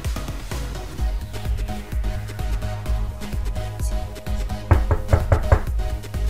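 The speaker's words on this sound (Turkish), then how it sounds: "Kapı çalıyor herhalde." Several sharp knocks ring out, loudest in a quick cluster near the end, with other clattering and thumps throughout.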